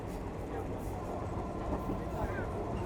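A crowded passenger train heading toward Sungai Kolok rolls along with a steady, dense interior rumble and rattle, and a murmur of voices from the packed carriage runs throughout.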